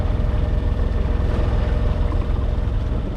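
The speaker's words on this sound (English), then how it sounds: "if you listen carefully you can hear the motor" The motor of a Sadler 26 sailboat running while motor sailing gives a steady, close, low droning hum that holds constant throughout, with no talking.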